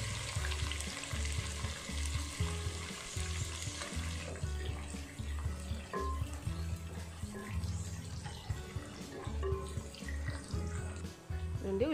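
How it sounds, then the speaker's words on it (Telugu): Sliced onion frying in oil with tempering spices for a raw mango fish curry, a steady close sizzle with stirring and some clatter running throughout, no talk. "రెండు ఉల్లిపాయ ముక్కలు ఫ్రై అవుతున్నప్పుడు"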